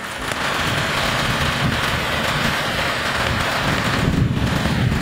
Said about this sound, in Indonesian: Wah, hari ini saya lagi vlognya lagi hujan nih ya.